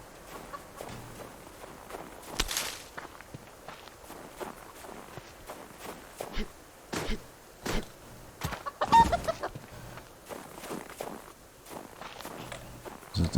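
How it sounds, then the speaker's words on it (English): A chicken clucks in short bursts between scuffing footsteps and rustling as someone moves close by, the sounds coming in irregular clusters over quiet background. "chicken wants to stand there and let me catch it"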